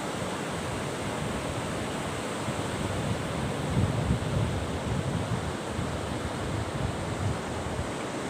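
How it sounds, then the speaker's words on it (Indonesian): Ocean surf on the beach at Pantai Maudil, Simeulue, Aceh: a continuous, loud wash of breaking waves with a broad roar and a slight swell in the middle, with no voices. "Sambil menikmati ya suasana pantai"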